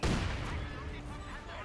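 Mortar barrages in the Company of Heroes 2 battle, a run of dense, booming impacts and gunfire rumbling continuously for a couple of seconds, loud and crowded with overlapping blasts.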